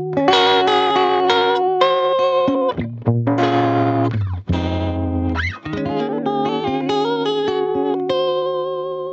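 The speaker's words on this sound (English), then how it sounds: "now let's use cassette, which is gonna have more compression, saturation, and modulation." A sustained synth chord sequence through a Chroma Console cassette effect, with gritty saturation, compression and a wobbling, warbling modulation, loud and continuous with brief dips between chords.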